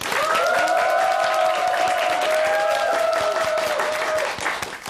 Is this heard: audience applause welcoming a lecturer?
yes